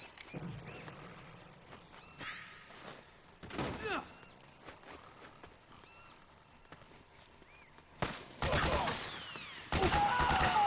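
Gunfire in the video game Metal Gear Solid 4: Guns of the Patriots comes as sharp, loud bursts clustered near the end, after a quieter stretch of scattered thumps and game effects.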